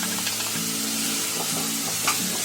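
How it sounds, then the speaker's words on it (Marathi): Besan is roasted with masala paste in a pan, giving a soft, steady sizzle with occasional stirring scrapes, close and continuous without any voices. "आता याच्यामध्ये मी बेसन टाकते"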